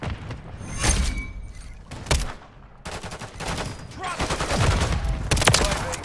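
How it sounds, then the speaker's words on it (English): Call of Duty gunfire crackles in repeated loud bursts of automatic fire broken by short pauses, with sharp impacts between volleys and no talk over it. "I'm taking fire!"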